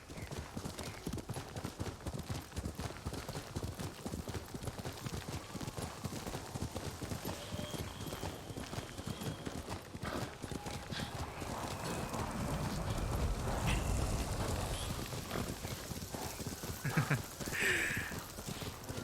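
A horse's hooves clip-clop steadily and quickly in the video game Ghost of Tsushima, a continuous galloping rhythm at moderate distance with a soft swell of ambient noise midway and no one speaking.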